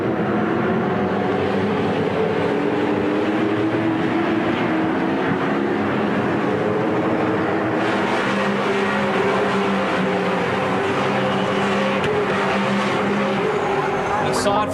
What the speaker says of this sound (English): the roar of these cars snaking their way around this spectacular circuit